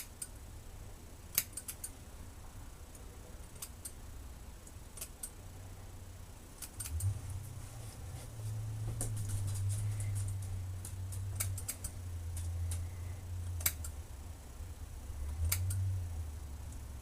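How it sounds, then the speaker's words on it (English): Small scissors trim a mustache with a scattering of crisp, quiet snips at irregular intervals, heard close up over a low background hum with no talking. "I just simply take some scissors"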